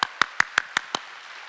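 Six sharp, evenly spaced hand claps ring out at a quick steady beat during a church worship service, fairly close and alone, fading into a quiet room tone afterward.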